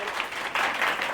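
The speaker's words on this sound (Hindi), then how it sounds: "तालियां इनके लिए बजाओ भाई।" Children at a theatre workshop break into steady, dense clapping that fills the room, a continuous burst of applause with no voices over it.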